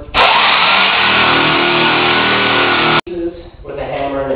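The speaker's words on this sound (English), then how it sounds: "Use a jam saw, an electric one, or a handheld one." An electric jamb saw cutting door casing ahead of wood flooring installation whines loudly and steadily for about three seconds. It stops abruptly, then a voice talks over quieter room noise.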